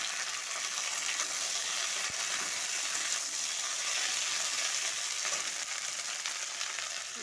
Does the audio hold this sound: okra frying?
yes